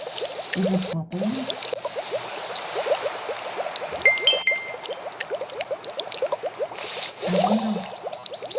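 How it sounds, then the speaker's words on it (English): A water droplet in a cave in Genshin Impact gurgles and bubbles steadily, a dense watery churning that runs for several seconds at fairly close range. No one talks over it. "It gurgled."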